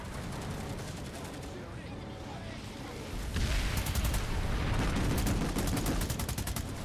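Video game gunfire in Planetside 2, dense rapid automatic bursts that grow louder and heavier partway through, with a player talking over the shooting.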